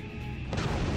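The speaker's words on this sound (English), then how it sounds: "And explosions!" A low, rumbling boom of an explosion from the PS2 game Power Rangers Super Legends swells over a busy game background, heard once without talk.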